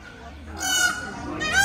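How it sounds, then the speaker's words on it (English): Loud, harsh honking call of a peacock at a panda park, rising sharply after a quiet start and repeating at the end, with nasal harmonic bands. "Is that a parrot or a peacock? I think that is a peacock."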